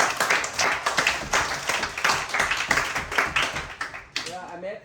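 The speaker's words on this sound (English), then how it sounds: "Give him big applause, please." Scattered clapping from a small group at a Buddhist discussion gathering, uneven and moderately loud, with voices talking over it and a brief pause near the end.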